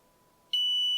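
A multimeter continuity tester's steady high-pitched beep starts abruptly halfway through and holds continuously to the end, loud and close after near silence.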